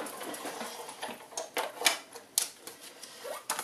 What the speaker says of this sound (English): pop it towards the top and run it through my Big Shot